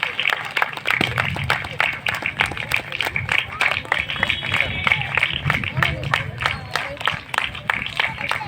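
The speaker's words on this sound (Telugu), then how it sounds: "మరి మనం పాస్టర్ గారిని మన చప్పట్లతో ఆహ్వానిద్దామా?" A church crowd welcoming a pastor claps in a rapid, steady burst of applause that lasts throughout, dense and close with scattered cheers.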